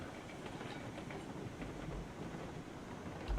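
Train rolling on rails in the railroad game RailRoads Online, a steady broadband rumble with faint rhythmic clatter that runs unbroken for the whole span, ending on a brief low thump.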